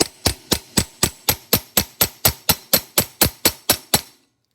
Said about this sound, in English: then we're going to come in with our ball peen hammer and tap that in